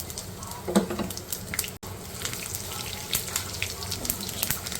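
Fenugreek, mustard, nigella and cumin seeds fry in oil with a soft, steady sizzle and scattered faint pops and crackles.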